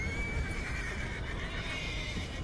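A horse in Red Dead Redemption II whinnies loudly and close, a drawn-out neigh with faint hoof clops beneath, and no talking.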